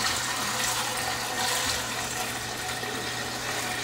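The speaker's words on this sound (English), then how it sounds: "I'm just going to pour 3 cans in my pot." Canned apple juice pours steadily into a cooking pot for a hard cider batch, a continuous close, fairly loud liquid rush with no talking.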